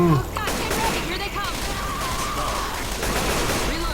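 Gunfire in the video game Left 4 Dead 2 on the No Mercy campaign, a rapid burst of shots under excited talking players, with continuous game noise behind.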